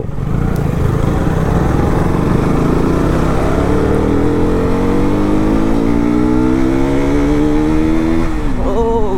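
A motorbike engine revs steadily and loudly, its pitch climbing gradually over several seconds before dropping near the end, with no talk over it.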